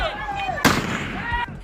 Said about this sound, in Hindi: युवक जैसे ही पहली गोली चलाता है, चीख पुकार मच जाती है